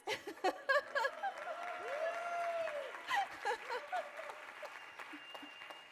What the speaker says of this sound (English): you guys can give her a proper round of applause as she walks on stage